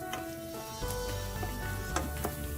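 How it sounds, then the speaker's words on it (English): Steady sizzling of Nellore fish curry ingredients frying in a pan on low flame, with a few soft stirring scrapes, moderately quiet and close. "continue frying for another 2 to 3 minutes on low flame"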